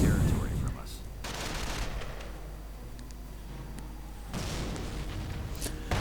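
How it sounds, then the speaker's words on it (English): Mortar rounds falling in a World War II strategy video game: a loud opening blast followed by continuous battle rumble and scattered gunfire, with a second surge of impacts near the end, under a commentator's talk. "Mortar rounds continue to fall."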